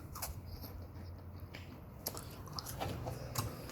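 Crisp crunching bites of a snack, close up, a few irregular crunches with soft chewing between them and no talking.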